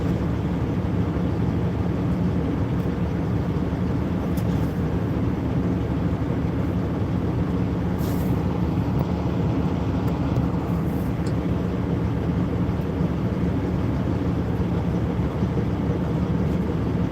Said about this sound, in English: Sitting out here watching airplanes.